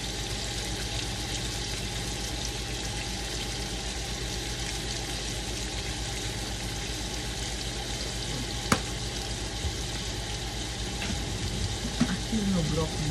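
Beef and broccoli steam and sizzle in a frying pan, a steady broadband hiss holding from start to finish with a brief clink near the end and faint voices underneath.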